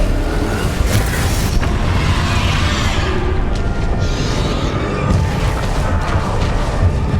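Spell blasts in the Hogwarts Legacy video game erupt in loud, rumbling booms layered with crashing debris and a dense, noisy game soundtrack, the bursts recurring over the span.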